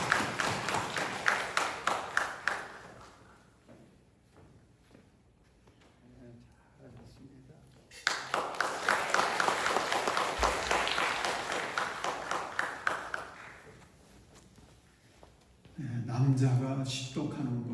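Congregation applause at a Korean Methodist Sunday worship service on Pentecost: a dense burst of clapping at the start, then a longer sustained round midway, mixed with spoken voices.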